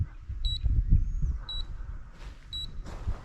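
Three short, high electronic beeps from a TSRC A6 GPS brushless mini drone returning home sound about a second apart over low rumbling handling noise outdoors.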